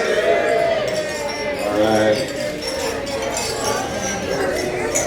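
Glasses clink together during a wedding toast, a few light chimes rising from a busy room full of overlapping crowd chatter and talk.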